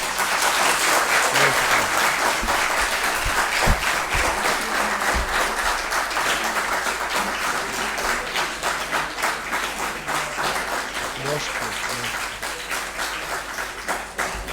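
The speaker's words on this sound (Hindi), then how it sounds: "एक दफ़ा प्लीज़ और ज़ोर से तालियां हो जाए" A room full of students at a tax exam revision lecture gives sustained, loud applause, a dense, continuous clapping crowd nearby that carries on for a long stretch without talk.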